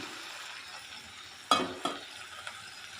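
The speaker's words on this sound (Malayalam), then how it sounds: "ഇത് നന്നായി ഇളക്കി കൊടുക്കാം" Brinjal stir-fry (mezhukkupuratti) hissing steadily in a pan, with two or three sharp spatula scrapes and clanks as it is stirred, close and fairly quiet, no voices.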